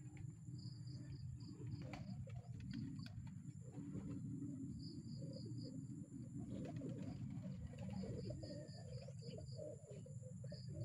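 Racing pigeons coo softly in a rural loft area in Mabitac, Laguna, with repeated short calls in the middle distance over a steady bed of crickets and insects.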